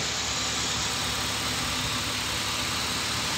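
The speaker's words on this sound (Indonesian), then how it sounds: "Kita bunyikan mesinnya biar membersihkan seisi." A car engine left running to flush the radiator during a cleaning test, a steady close idling rumble with constant noise throughout and no talk.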